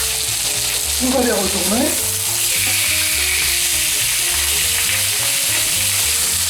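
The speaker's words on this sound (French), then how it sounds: "la poêle est chaude, je vais rajouter un filet d'huile et on va mettre nos viandes donc à colorer" Chicken pieces for lemon chicken brown in a drizzle of oil in a hot pan, giving a loud, continuous sizzle and crackle; a person speaks briefly while the pieces are turned.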